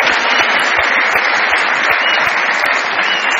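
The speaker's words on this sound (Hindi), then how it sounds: "बहुत सारी तालियां बजाइए।" A studio audience on a Pakistani comedy talk show claps steadily, a dense, loud, continuous wash of applause with no voices on top.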